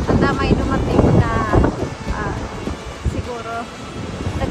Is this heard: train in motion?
no